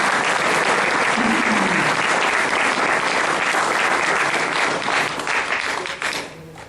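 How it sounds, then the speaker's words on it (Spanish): An audience at a church gathering claps in sustained, dense applause that holds steady and loud before tapering off over the last couple of seconds. "Dale otro aplauso al que vive y al que reina."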